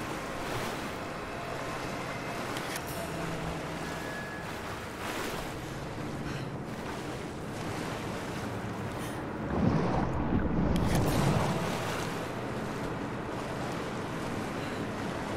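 Cold water splashing in Rise of the Tomb Raider, a steady surf-like wash under wind that swells into a louder, closer splash burst for a couple of seconds before settling back.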